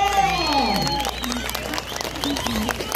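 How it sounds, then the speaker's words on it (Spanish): A crowd at a clown show claps and cheers for a girl called up on stage, with lively mixed voices and shouts throughout. "Venga el aplauso para ella, venga el aplauso."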